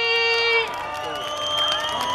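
A crowd at an outdoor New Year's Eve concert in Changhua City cheers and shouts to welcome a singer to the stage; the cheering is dense and steady over sustained musical tones.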